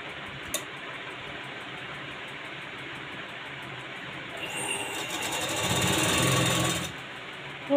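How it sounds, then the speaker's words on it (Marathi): A sewing machine runs a steady stitching burst through designer blouse fabric, starting after a quiet stretch and humming along for about two and a half seconds before stopping. "आता आपण त्याच्यावरती एक शिलाई मारून घ्यायची"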